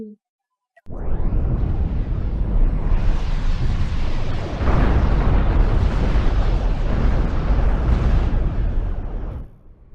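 A sustained roar of quantum foam torpedo explosions in the space game Cosmoteer, loud and dense, rising abruptly after a short silence and rumbling continuously for several seconds before cutting off.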